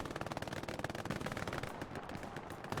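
Automatic machine gun fire in a competitive 18-versus-18 online shooter playoff match: a dense, sustained stream of rapid rounds lasting the whole moment, loud and steady with overlapping battle noise.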